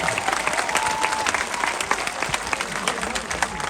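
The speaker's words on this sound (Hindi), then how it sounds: "जरा हाथ उठाकर तालियों की गूंज में बताइए कि इमरान खान उससे कितना प्यार करते हैं" Crowd at an Imran Khan political rally in Swat applauding steadily, dense clapping throughout with a faint voice underneath.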